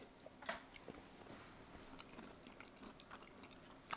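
Close, quiet chewing of gnocchi with crunchy walnuts and blue cheese, a few sharp crunches, bites spaced irregularly over a faint background.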